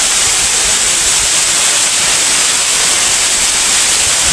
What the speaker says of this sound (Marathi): हे पहा धबधबे